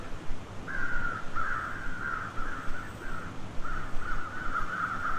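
A string of raspy crow caws in the video game The Long Dark sounds at a moderate distance in a rhythmic series, over a faint background rumble.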